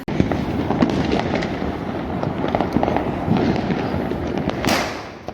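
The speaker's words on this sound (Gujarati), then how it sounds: "આજે દિવાળી છે તો કેટલા બધા ફટાકડા ફૂટી રહ્યા છે" Diwali firecrackers burst all around in a dense, continuous crackle of overlapping pops and bangs, some near and some distant, with no voices over them.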